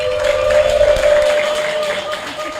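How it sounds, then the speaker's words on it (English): Applause rises from the audience at a civil engineering graduate induction ceremony, a brief wash of clapping for a best graduating student, with a steady tone running beneath it. "Please, a round of applause for him."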